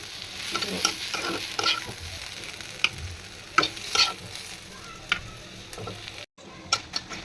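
Chillies frying in a pan beside garlic for a mash, with a steady sizzle broken by repeated scraping and stirring taps, then a brief silence before more stirring.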